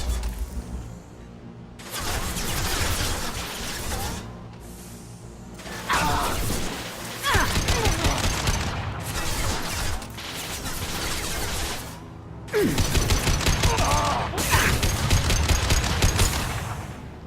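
Gunfire in the video game Mass Effect 2, repeated loud bursts of rapid automatic shooting separated by short pauses, with clattering mechanical sounds between volleys.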